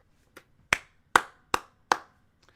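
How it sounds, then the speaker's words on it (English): A deliberate slow clap, four or five crisp single handclaps spaced evenly about half a second apart, close and clear against quiet, with a faint softer clap at the start and end. "Slow clap."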